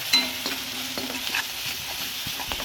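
Spices stirred into pointed gourd frying in a pan, a gentle sizzle under occasional light spoon scrapes and taps, close and quiet with no voices.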